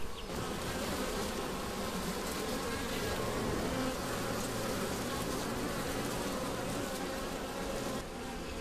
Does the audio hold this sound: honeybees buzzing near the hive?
yes